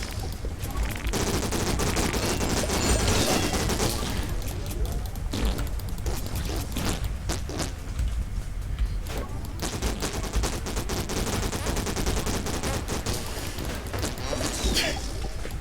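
Rapid six-shooter revolver fire in the Morphies Law online arena shooter cracks out in dense, repeated bursts, loud and close, mixed with game impacts and clatter that run almost without pause throughout.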